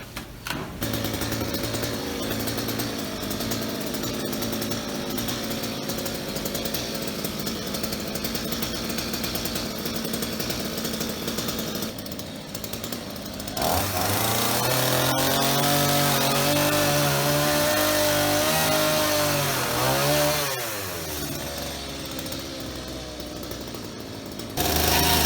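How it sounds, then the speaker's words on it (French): A chainsaw running loud and close, its engine revving up and bogging down as it cuts the top off a tree trunk, then idling between cuts. "je vais prendre la tronçonneuse et je vais couper le haut du tronc"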